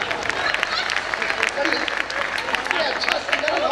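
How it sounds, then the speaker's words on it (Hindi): An audience at a live poetry gathering claps and cheers loudly, the applause dense and steady throughout while voices call out over it. "तालियां आपके लिए भी होनी चाहिए।"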